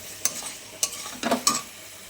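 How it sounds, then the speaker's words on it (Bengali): Potatoes stir-fried in a pan, a few distinct scraping stirs over a light sizzle, close up and fairly quiet, with no voices. "আলুটা দিয়ে একটু কষে দিব"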